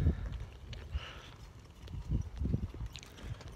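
Horse hooves clip-clopping on a ride, an irregular series of soft, low thuds close by with some wind noise and no talking.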